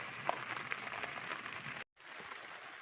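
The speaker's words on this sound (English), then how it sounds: "Well, rain set in now." Steady rain falls on the Australian Alps Walking Track in a soft, continuous hiss with faint patters, briefly cutting out near the end before resuming.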